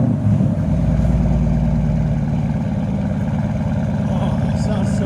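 A deep, throaty 6.4L HEMI V8 engine rumble from a Jeep Grand Cherokee SRT with Borla ProXS exhaust and resonator delete, heard from inside the cabin, steady and loud throughout with a low burbling drone.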